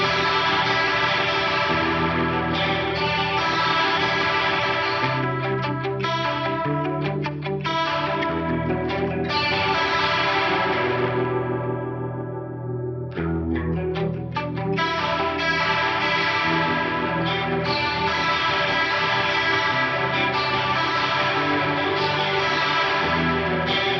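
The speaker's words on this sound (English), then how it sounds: "We'll hear the tri-chorus on its own, playing some jangly arpeggios, and then I'll kick in the pitch block." Clean electric guitar picks jangly arpeggios through a tri-chorus effect, shimmering and swirling, then a stereo pitch-detune block thickens the tone after a brief pause; steady sustained notes with no voices.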